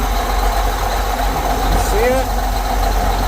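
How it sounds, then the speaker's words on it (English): A tractor engine runs at a steady idle, a constant close mechanical rumble, while a person briefly speaks nearby. "I'm going to have Brock start the tractor up again"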